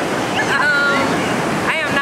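Ocean waves wash up on the shore at a Santa Monica beach, a loud continuous rush of surf with wind buffeting the microphone while people talk over it.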